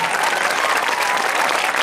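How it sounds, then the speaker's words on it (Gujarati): Loud, dense applause from an audience at a Kutch Kadva Patidar women's group cultural function in Rajkot, steady clapping throughout with no letup. "જોરદાર તાળીઓથી આપણે વધાવશું"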